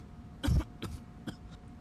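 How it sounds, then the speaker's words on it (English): A few harsh coughs and throat-clearing bursts, one strong cough followed by two or three weaker ones, close and alone without talk. "And that's when that cough started."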